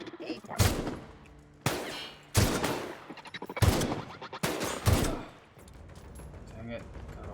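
Turrets fire in The Outer Worlds. Five loud, close bursts of rapid automatic gunfire come at roughly one-second intervals, each tailing off briefly before the next, and a quieter stretch follows at the end.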